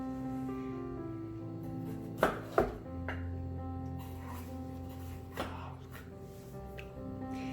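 Knife cuts fresh pineapple into chunks for kebabs in a garden setting, with two sharp chops close together, then a single later chop over a steady low hum.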